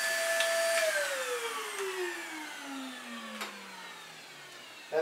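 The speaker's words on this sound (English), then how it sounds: "this is the vacuum right here" A household vacuum cleaner motor is heard winding down, its whine sliding steadily lower in pitch over several seconds, fairly close, with no talking.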